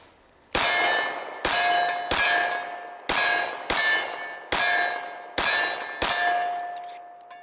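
A Wilson Combat ETM pistol magazine with a plastic base plate, used in a 1911, is struck or dropped eight times in a row, each a bright, ringing metallic clang that rings on briefly before the next.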